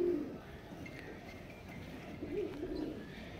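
Pigeons cooing in a loft at a pigeon farm, soft low coos at the start and again near the end over faint background hum, heard from a little distance.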